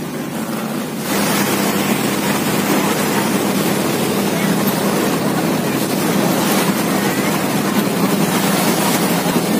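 Fishing boats motor across the sea at Cần Giờ during a traditional lantern festival. A steady, dense engine and water roar begins after a brief quieter moment, mixed with wind buffeting and waves.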